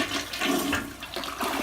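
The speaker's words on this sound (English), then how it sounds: "And here we go with the inaugural flush." A freshly unclogged, cleaned toilet flushes, a close gushing rush of water swirling through the bowl that keeps surging for the whole short stretch, with no talking.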